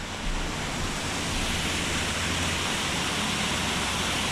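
Waterfall beside the walkway at the start of the Old Man's Cave trail in Hocking Hills at dawn, a steady, dense broadband rush of falling water that holds constant and fairly close throughout, with no voices.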